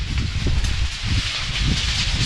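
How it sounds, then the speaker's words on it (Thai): Strong wind whips across a pagoda on Samui, shaking gold and silver bodhi-leaf ornaments into a dense, continuous rustling hiss over low gusty buffeting. "ลมแรงแค่ไหน ดูจากใบโพทองใบโพเงินที่เขาตี่กันนะครับ แรงมากจริง"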